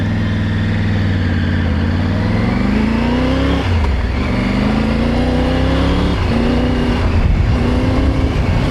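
Motorcycle pulling away and riding on a Saaremaa island road in Estonia, the engine loud and close, climbing through repeated rising pitch sweeps as it accelerates and shifts gears, with no talk.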